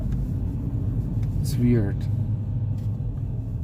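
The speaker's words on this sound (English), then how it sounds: "I don't like the groaning of CVT, to be honest." A 2021 Kia Forte GT with a turbocharged engine and CVT groans with a steady low rumble while driving, with a voice briefly over the drone.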